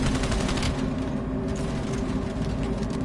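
Sustained, dense gunfire from Call of Duty: Black Ops Cold War, rapid overlapping shots forming a continuous loud fusillade that fills the whole stretch without a break.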